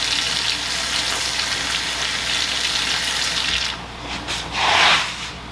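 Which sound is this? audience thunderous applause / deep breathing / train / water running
water running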